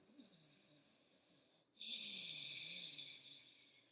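Ujjayi breathing with a constricted throat: one soft inhale, then a louder, close, hissing breath with a slight throaty rasp lasting about two seconds.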